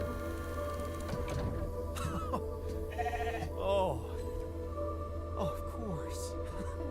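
A sheep bleats in the video game The Alters against a steady game soundscape of hum and ambient noise, with a few short electronic tones scattered through it.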